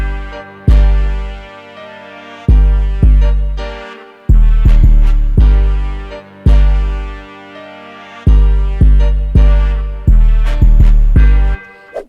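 An FL Studio beat plays with booming 808 bass hits, piano and a bright melody in a loud, rhythmic pattern of punchy decaying notes with short gaps, alone without any talking.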